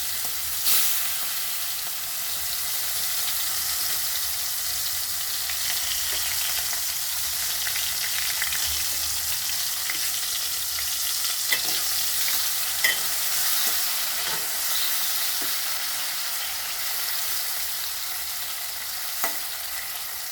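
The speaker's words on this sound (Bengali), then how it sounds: "এবার আমি এটাকে তেলে ভেজে নেব। পুরোটাই একবারে দিয়ে দেবো।" Marinated prawns frying in hot oil, a loud, continuous crackling sizzle with steady hiss and occasional pops, close and alone.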